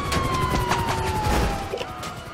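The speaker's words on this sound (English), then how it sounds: "the ambulance is super fast!" Wailing ambulance siren in the video game GTA 5, a loud sweeping tone that slides downward over a couple of seconds amid chaotic game noise and bursts of action.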